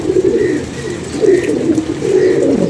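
Pigeons coo while eating grain, repeated soft, throaty coos close by in a loose rhythm, with no talk.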